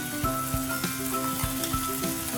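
Curry leaves crackle and sizzle in hot oil in a pan, a steady frying hiss punctuated by regular sharp pops, with no talking.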